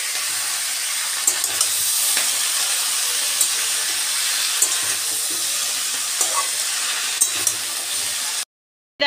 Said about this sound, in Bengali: চলো পালং শাকটা রান্না করে ফেলি ঝটফট, কিছুই করবো না, কালো কাঁচা লঙ্কা চিরে রান্না করছি একটু।